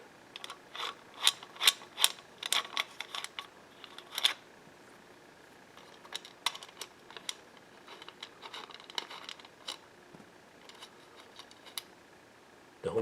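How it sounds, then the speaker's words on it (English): A Phillips screwdriver backs screws out of a light fixture bracket, making close, intermittent bursts of small ratcheting clicks and scrapes separated by short pauses. "we're going to take our Phillips head screwdriver"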